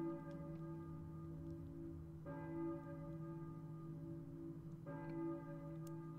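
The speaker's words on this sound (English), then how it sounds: "But now that we hear a church bell, we should need to go investigate it." A church bell tolls in the Silent Hill video game, its deep harmonic strokes ringing out steadily with fresh strikes about every two and a half seconds, no voices over it.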